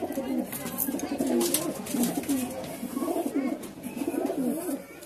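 Punjab Malbai pigeons coo in a repeated rolling rhythm close by, with people talking faintly in the background.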